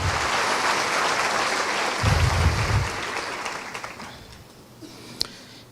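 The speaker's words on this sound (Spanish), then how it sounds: "Le damos un aplauso a Dios que siempre nos ayuda" A church congregation applauds during a Spanish-language sermon on faith, a broad steady ripple of clapping that gradually fades away, with a brief sharp knock near the end and a voice murmuring beneath.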